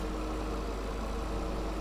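A tractor engine runs steadily while pulling a 40-horsepower mower through an apple orchard, giving a continuous low rumbling drone with an even level throughout and no voices.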